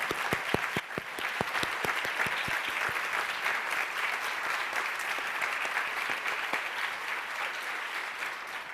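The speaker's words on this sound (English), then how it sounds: "you're getting a standing ovation" A ceremony audience gives a standing ovation, with sustained, dense clapping that starts with a few sharp distinct claps and swells into continuous applause lasting the whole stretch.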